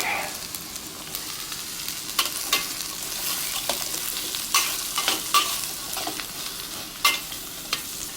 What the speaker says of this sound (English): I'm gonna get the onions and the celery in pretty quick.